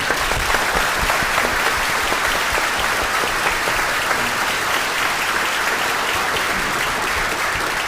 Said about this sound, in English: One more round of applause for Chris and Melody.